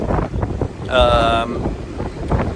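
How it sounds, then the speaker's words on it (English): A small wind turbine on a sailboat moored to a buoy in wind gives a brief, steady whirring whine of stacked tones, rising out of wind buffeting with a voice talking around it. "the old wind turbine's doing its nut, although I turn it off at night because it drives me nuts with the noise"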